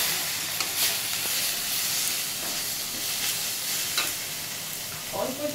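Ground spices and salt sauté in a hot pan, a loud continuous sizzle and hiss punctuated by repeated spatula stirring scrapes, close and alone.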